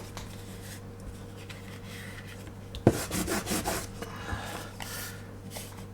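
Abrasive sanding sticks, sheets of abrasive mounted on plastic strips, being rubbed clean at a model-building bench: quiet scratchy rubbing that turns into a burst of brisk strokes midway, then fades to lighter scrapes.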